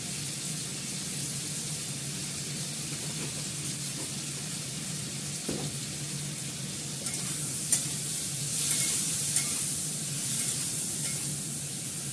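Food frying in a pan with a homemade spice mix and turmeric, a steady close sizzle with intermittent scraping and stirring strokes, no talking.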